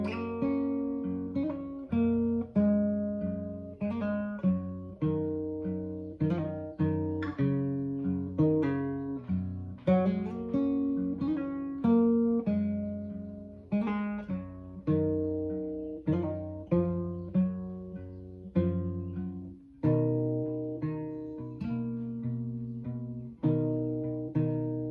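Acoustic guitar playing the intro of a song slowly, a steady flow of plucked and strummed chords with sustained ringing notes, close and clear throughout with no voices.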